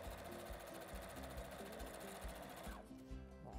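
A sewing machine runs in a steady, loud whirring stitch while securing the thread with a short backstitch, and the motor winds down near the end. No one speaks.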